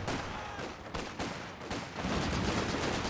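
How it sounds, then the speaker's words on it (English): Small arms fire from a grenadier unit in a real-time strategy war game, with rapid overlapping shots and rattling bursts set against a background of battle noise, moderately distant, with no voices. "Just going to try and finish the job here with the small arms from the grenadier, and they are successful."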